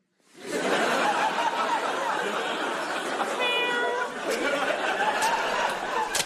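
A kitten meowing as a radio comedy sound effect, a run of high mewing cries over a busy, continuous bed of chatter and bright noise.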